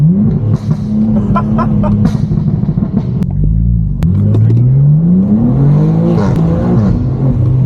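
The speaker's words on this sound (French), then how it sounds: "Oh le passage de rapport, j'adore" A powerful BMW M2 engine, heavily modified, roars and climbs in pitch, drops briefly at a gear change, then revs up again, loud and close throughout.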